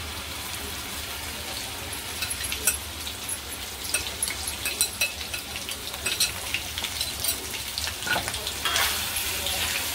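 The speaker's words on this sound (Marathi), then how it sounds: "जी मॅरिनेट करून ठेवली होती ना कलेजी, ती आपण याच्यात टाकून घेऊया." Marinated chicken liver sizzles in hot oil on a tawa, a steady close crackle with scattered sharper pops and stirring clatter throughout, no talk.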